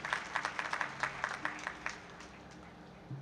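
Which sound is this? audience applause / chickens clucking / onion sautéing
audience applause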